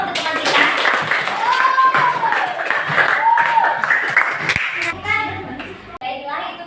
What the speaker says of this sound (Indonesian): Kasih tepuk tangan dulu untuk teman kita.